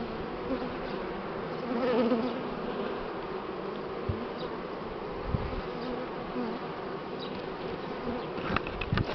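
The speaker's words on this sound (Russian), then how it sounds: "Вот здесь Аня закрыл улей. И столько пчел сразу появилось." Buckfast honey bees swarm around a hive, making a dense, continuous buzz that stays close and fairly loud, with a few light knocks and no voices.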